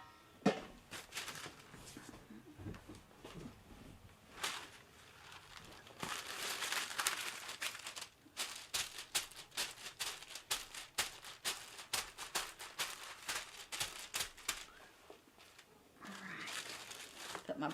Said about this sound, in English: Got my parchment paper to cover those.